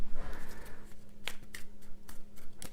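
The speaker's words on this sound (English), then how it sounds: "Shuffle these" Board game cards being shuffled and handled at a table, crisp papery riffles and taps in short separate bursts, close and fairly quiet.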